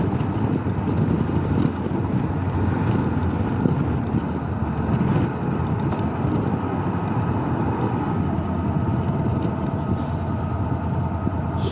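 Wind roaring over a rider on a Honda CB500X motorcycle during a morning commute, a loud, constant buffeting rush that carries on without a break and with no talk.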